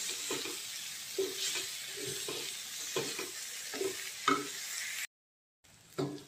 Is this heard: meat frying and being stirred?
yes